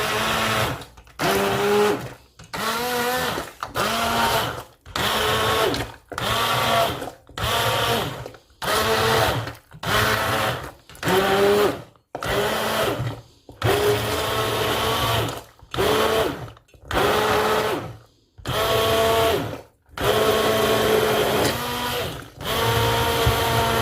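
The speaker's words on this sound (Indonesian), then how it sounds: "Lalu kita blender." A kitchen blender purees vegetable soup in a long run of short pulses, each a loud motor whir lasting about a second, separated by brief silent gaps with a steady on-off rhythm.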